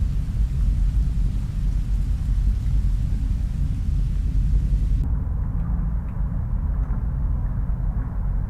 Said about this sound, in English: Is the rain getting worse?